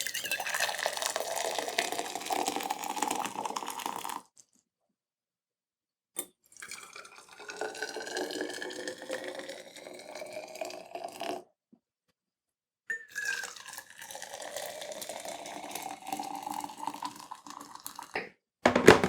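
Water poured in turns into Yeti, Zojirushi and Contigo thermoses, each pour a rising gurgling fill lasting several seconds, separated by short silences, close and clear with no talk.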